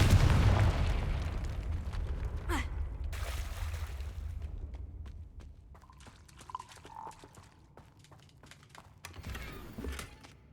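A Confringo fire spell bursts in Hogwarts Legacy, a loud booming blast with a rumbling low-end tail that fades over several seconds, followed by scattered crackles, debris and a second smaller burst near the end.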